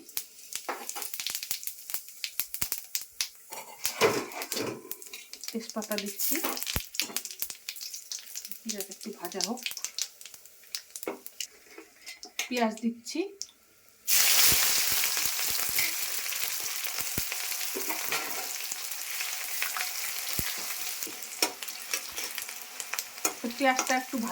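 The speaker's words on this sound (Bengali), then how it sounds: "তেল গরম হয়ে গেছে আমি একটু জিরা ফোড়ন দিচ্ছি" Cumin seeds dropped into hot oil in a pan burst into a loud, sustained sizzle partway through. Before that, a voice talks over scattered scraping and stirring clatter.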